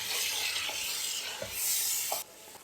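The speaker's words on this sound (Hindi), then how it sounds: "अच्छे से इसकी भुनाई करेंगे।" Mutton with spice paste stirred and fried in oil, a steady close sizzle with soft scraping spoon strokes and a few light knocks against the pan, the sizzle dropping off suddenly near the end.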